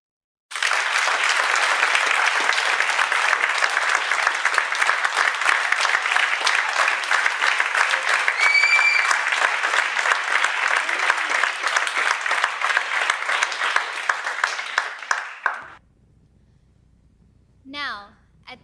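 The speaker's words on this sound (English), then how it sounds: "Let us have a great round of applause for the mother and daughter gurus and their abiding interest in the" Audience applause at a veena rangapravesam concert, a dense, sustained clapping from a large crowd lasting about fifteen seconds before cutting off into near silence, with brief faint sounds afterward.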